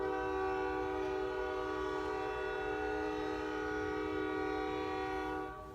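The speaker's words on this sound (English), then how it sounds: "That is the train outside my apartment, and it is loud." Train horn blaring outside an apartment, a loud sustained multi-tone blast holding steady for several seconds before cutting off, with rumble of the passing train underneath.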